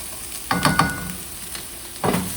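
Carrots sautéed in a pan with quick, rapid tossing movements: a few short sizzling bursts and clattering strokes over a low background hiss.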